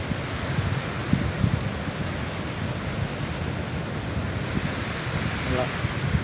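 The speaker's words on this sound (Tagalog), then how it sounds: "Malakas kasi medyo ang hangin kaya malalaki ang alon." Large ocean waves rolling in at a beach resort in strong wind, a steady wash of surf and wind rumble with a faint passing engine tone near the end.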